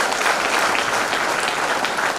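An audience at a business meeting in a resort hall claps, a dense, even burst of applause sustained throughout without speech.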